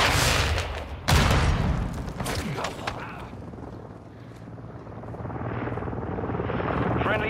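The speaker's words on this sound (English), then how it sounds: "Friendly Overwatch helo in the area" A friendly overwatch helicopter in Call of Duty: Modern Warfare II thumps with steady rotor chop amid bursts of gunfire and explosions, the heavy blasts early on giving way to a sustained whirring drone that swells toward the end.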